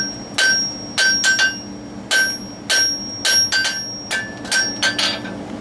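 Ringing hammer blows on metal at an anvil while forging a leaf, in irregular clusters of sharp, bright strikes with pauses between, close and loud.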